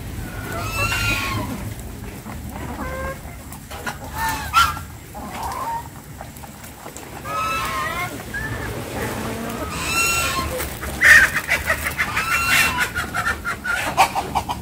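Hens and a rooster on a small Vietnamese backyard farm, kept in a garden-and-pen setup alongside ducks, give repeated clucks and squawking calls over about fifteen seconds, with louder, denser bursts toward the end against a busy farmyard background.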